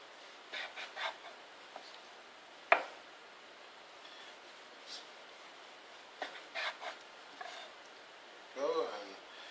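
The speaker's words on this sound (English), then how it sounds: "Now what I'm going to do, cut them in nice slices." A kitchen knife slicing squared-off bread into slices, heard as several short rasping sawing strokes in small bursts and one sharper knock against the board, fairly quiet and close.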